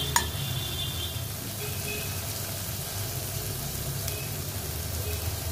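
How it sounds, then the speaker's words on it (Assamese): Long beans and onions with mustard seeds sizzle steadily in a pan, a close, even frying hiss with occasional faint scrapes of stirring. "এতিয়া ভালকৈ লৰাই মিক্স কৰি এই পিঁয়াজখিনিৰ লগত মিক্স কৰি ধুনীয়াকৈ লৰাই দিম।"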